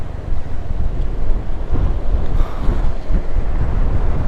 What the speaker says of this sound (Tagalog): Ang lakas ng hangin, grabe oh.